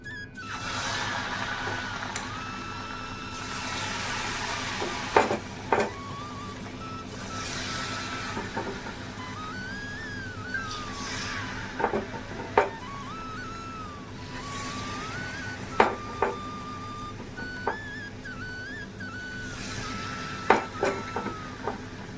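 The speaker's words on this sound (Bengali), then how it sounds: "এবারে বড়াগুলো ভেজে নিই" Round palm-fruit fritters (taler bora) fry in oil with a steady, fairly quiet sizzle that flares into louder bursts every few seconds, while a faint wavering whistle-like tone runs in the background.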